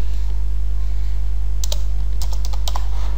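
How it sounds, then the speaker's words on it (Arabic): Keys pressed on a computer keyboard, including the Enter key, a few sharp close clicks in a short cluster near the end over a loud steady hum. "نضغط على انتر"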